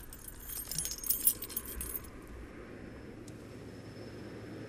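A brief jangle of keys in the first two seconds, fairly close, over a steady low engine-like rumble that continues after the jingling stops.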